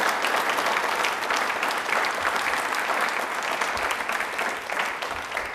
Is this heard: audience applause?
yes